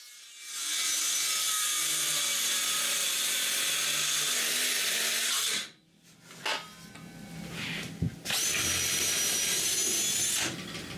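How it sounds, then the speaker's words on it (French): Wooden boards being cut for a snowmobile trail groomer, with a loud sustained power-saw whine for about five seconds, a short pause with handling knocks, then a second cut, close and without talk. "Tout ce qui reste à faire, c'est de couper du bois."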